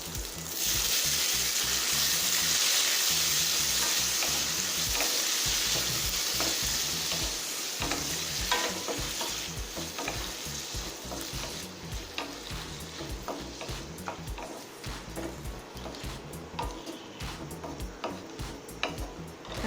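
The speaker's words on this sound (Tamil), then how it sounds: "தக்காளியை நல்லா வதக்கிக்கலாங்க." Tomatoes and shallots sauté in a pan for tomato chutney, giving a steady close sizzle with repeated stirring scrapes and ticks throughout, loud at first and settling slightly, with no talk.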